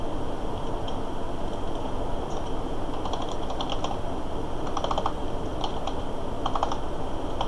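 Typing on a computer keyboard at a desk, with irregular bursts of clicky keystrokes over a steady background hum.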